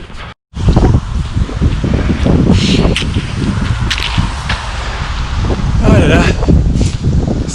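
A strong headwind buffets the microphone of a runner during a marathon, a loud continuous roar with gusting swells that persists under a voice speaking French.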